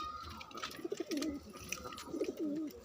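Pigeons coo softly nearby in two short throaty phrases, a faint background hiss around them.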